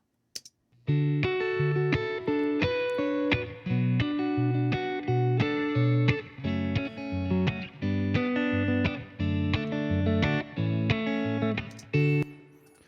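Clean electric guitar played through a Fender Blues Deluxe tube amp, recorded with a Royer 121 microphone, plucked notes and chords in short phrases with small pauses, ringing with light reverb.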